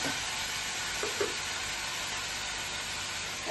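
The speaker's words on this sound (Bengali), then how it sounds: "এবার একটু নাড়িয়ে চাড়ে গ্যাসের আঁচটাকে আমি কমিয়ে দিচ্ছি, এবার ঢাকা দিয়ে দিচ্ছি।" Greens, eggplant and potato sizzle steadily in a pan over a gas flame, a constant frying hiss with a couple of faint stirring scrapes, close and alone.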